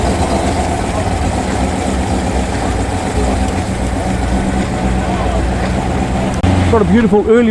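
A loud car engine at a street car meet idles with a deep, continuous rumble close by, under someone talking; the engine note shifts near the end.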